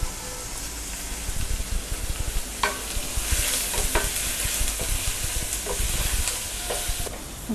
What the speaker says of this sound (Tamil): இப்போ நம்ம வெங்காயம் போட்டுக்கலாம். வெங்காயம் நல்லா ஃப்ரை ஆகணும்.